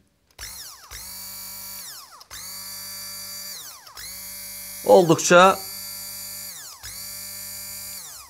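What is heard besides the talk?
hand blender running idle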